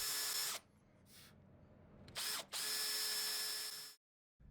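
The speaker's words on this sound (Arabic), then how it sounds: "نيجي بقى نعمل ثقب بالشنيور جوه التعشيقه" A power drill bores a hole into a wooden lumber joint, with two long high-pitched whining bursts and a short spin-up between them, close and loud, then silence.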